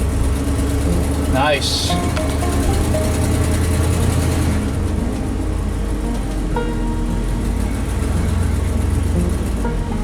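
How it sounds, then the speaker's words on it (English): Cars and engines pass along a busy road on a Sunday afternoon, a steady low rumble with one vehicle sweeping by early on, while a person talks briefly over it. "it's Sunday afternoon, so a lot of vehicles out here"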